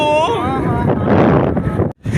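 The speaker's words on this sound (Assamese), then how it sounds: "এই শুৱলা বতাহি যেন আমাক কঢ়িয়াই লৈ যায়" Steady wind buffets the microphone with a loud, broad rushing roar, under a brief voice at the start, ending with a short sudden dropout.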